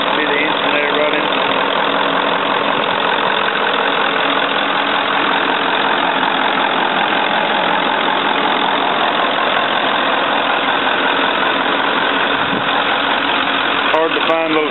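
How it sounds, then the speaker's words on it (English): A 1994 Ford F350 pickup fitted with a hydraulic snowplow idles loudly and steadily at close range, its engine running evenly without a break from start to finish. "Just see the engine there running."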